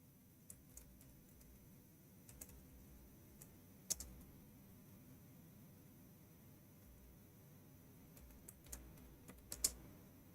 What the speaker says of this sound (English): Let us type.